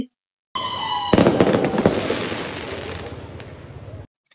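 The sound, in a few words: fireworks going off at a celebration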